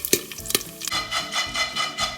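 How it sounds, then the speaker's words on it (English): Popcorn kernels starting to pop in an oiled pot on the stove while the pot is shaken, a few sharp early pops giving way to a steady rattling, sizzling rush. "Popcorn here in the pot is starting to pop, so we're going to go ahead and just kind of shake it a little bit"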